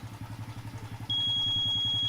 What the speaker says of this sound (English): I used the motorcycle approaching the skateboard